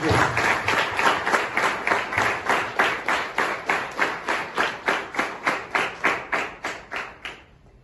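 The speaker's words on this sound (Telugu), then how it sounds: "గట్టిగా చప్పట్లు కొట్టి అభిమానించారు" A crowd at a birthday celebration and diary launch claps in quick, rhythmic unison, with steady beats that gradually soften and then stop near the end.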